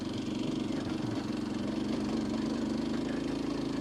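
Kawasaki KLX230S motorcycle engine held in second gear while climbing uphill on a forest trail, a steady continuous mid-pitched drone with no speech.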